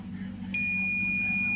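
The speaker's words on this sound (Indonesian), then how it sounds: "kalau kedua probe ini saya sentuhkan akan bunyi beep" A multimeter set to continuity mode gives a steady, high-pitched electronic beep when its two probes touch. The tone starts abruptly and holds evenly over a low background hum.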